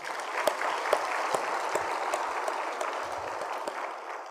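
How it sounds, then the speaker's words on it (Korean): A church congregation applauds in thanks during a Sunday worship service, a full, steady wash of clapping from the whole room with a few sharper claps standing out. "이 큰 은혜를 주신 아버지께 감사의 박수를 드립니다."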